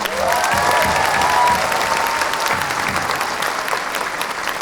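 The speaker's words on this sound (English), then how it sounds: "I do want to take this opportunity for all of us to give a round of applause to all of the teachers that are here" A university audience applauds teachers at an event at BRAC University, a dense, steady wash of many hands clapping that swells early and then eases slightly, with faint crowd noise beneath.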